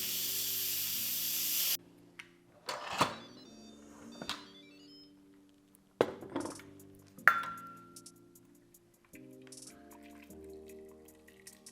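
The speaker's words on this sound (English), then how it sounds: "Let's release the steam." An Instant Pot that has just finished cooking beans vents steam in short, sharp hissing bursts separated by pauses, alongside a loud hiss at the start and soft electronic tones in the background.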